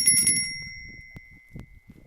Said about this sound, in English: That would be the brunch time bell.